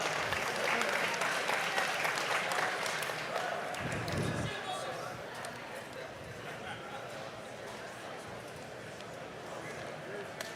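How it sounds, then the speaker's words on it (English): Applause at an MMA event for a fighter from a Brazilian jiu-jitsu team fills a large hall, loud at first and then easing to a lower sustained clapping, with an announcer's voice and crowd chatter running through it. "please give a round of applause to his opponent"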